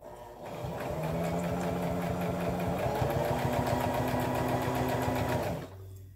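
A sewing machine stitches quilt fabric for a beginner's quilting block, a close steady whirring run of rapid needle strokes that lasts about five seconds before stopping.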